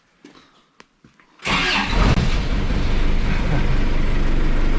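A 2005 Mazda's engine cranks and catches, then roars loudly and keeps running at a steady, rough rumble after a few quiet clicks.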